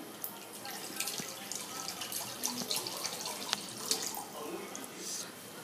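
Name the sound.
cold water being poured into leftover batter liquid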